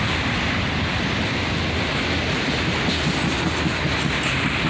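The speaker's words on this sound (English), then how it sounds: "And there it goes, another GEVO," A CSX freight train led by a GEVO ES44AC locomotive rolls past close by, a loud steady roar of wheels and rail noise with faint clickety-clack throughout, no voices.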